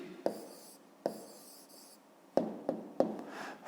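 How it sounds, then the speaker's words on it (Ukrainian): A pen writes out the answer to a fifth-grade math exercise by hand: five quiet, scratchy stroke bursts in an uneven rhythm, close up and with no voice. "Пишемо відповідь."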